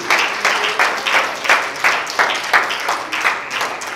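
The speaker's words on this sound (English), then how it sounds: "Clap your hands to the Lord." A church congregation claps hands together in a steady, rhythmic beat, a dense crowd of claps sounding close and lively with no talk over it.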